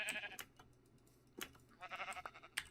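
Sheep bleating in Minecraft on an FTB 1.6.4 modpack, a few short game bleats with key clicks and faint clatter between them, fairly quiet.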